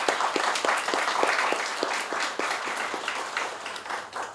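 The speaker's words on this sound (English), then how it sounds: "if we could just have a round of applause for all of them" Audience at a student showcase applauds undergraduate writers, with steady crowd clapping from a moderately sized room, even and sustained throughout the short stretch.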